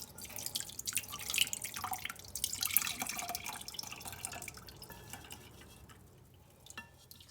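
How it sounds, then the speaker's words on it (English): Peach syrup for iced tea poured through a fine mesh sieve into a measuring cup over a kitchen sink, a soft, quiet trickle with scattered drips that fades toward the end. "I'm just going to try to carefully pour this through"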